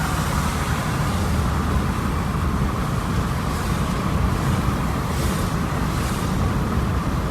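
Steady road roar and tire hiss of a car driving on wet roads in rain, heard from inside the vehicle as a continuous, even rumble with no talk.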